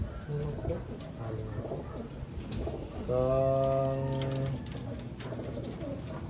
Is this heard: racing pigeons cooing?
yes